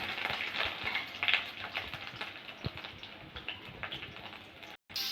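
Garlic and ginger frying in hot mustard oil: a steady close sizzle and crackle with small popping spatters, briefly cut off near the end.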